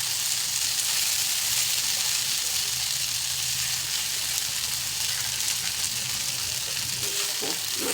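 Malai soya chaap fries in a pan with a dense, constant sizzle and hiss throughout, steady and close.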